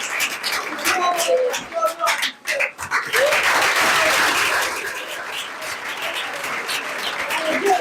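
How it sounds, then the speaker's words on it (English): A secondary school audience at an anti-drug-abuse campaign event bursts into sustained clapping after a voice speaks briefly at the start; the applause is loud, close and steady, fading slightly toward the end. "A round of applause for him again."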